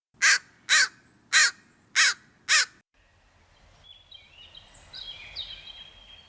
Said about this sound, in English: whereas a crow is smaller and goes.